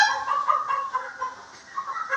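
Hens kept on a city rooftop clamor together in a bunched flock, a close, uneven run of overlapping clucks and squawks that rises and dips, with no talking.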